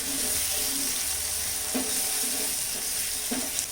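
Masala frying in ghee on a hot tawa, a steady broadband sizzle with a few soft scrapes of stirring breaking through, close and even throughout with no voices.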